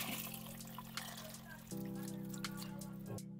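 Cooked macaroni rinsed under a running kitchen tap gives a steady rush of water with a faint trickle and splash, and the flow deepens into a fuller stream partway through.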